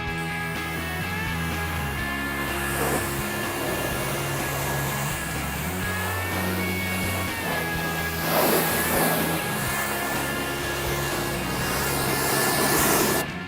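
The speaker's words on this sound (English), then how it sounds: "this pressure washer that we have it's amazing" A pressure washer sprays the underside of a car in a steady, loud, hissing rush of water that swells and fades slightly as the spray moves, with a constant motor whine underneath.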